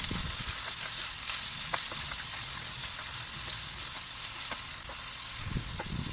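Ground pork sautéing with garlic and onion in a pan: a steady, close sizzle and crackle of frying meat runs throughout, with occasional spatula stirs and scrapes.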